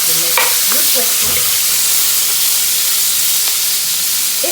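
Fish fries in hot coconut oil in a Sri Lankan home kitchen, a loud, close, continuous sizzle with a few spoon knocks early on.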